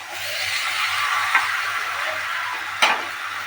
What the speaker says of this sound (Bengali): এবার ভালো করে কষে নিতে হবে।